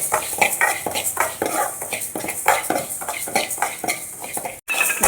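Moong dal roasting in a pan, stirred with a metal spoon that clatters and scrapes against the pan in quick repeated strokes, close and busy with a faint sizzle underneath.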